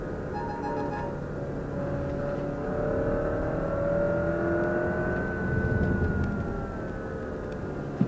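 Alfa Romeo Stelvio SUV on 20-inch wheels accelerating hard in a lower gear on a country road, its steady engine note climbing in pitch over road and wind roar for several seconds.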